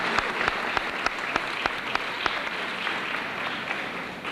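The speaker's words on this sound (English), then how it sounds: "So give yourself a nice round of applause." Students and guests applaud in a Port Huron High School fine arts festival audience. The clapping is sustained and even, and a few sharper claps ring out regularly above the wash.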